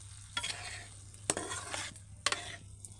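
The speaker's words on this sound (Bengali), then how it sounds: "দুধটা দিয়ে আমি এটাকে ভালোভাবে নেড়ে দেব" A spoon stirs chicken roast with milk in a pan, giving a few sharp scraping strokes against the metal over a soft, steady sizzle, close up and with no talking.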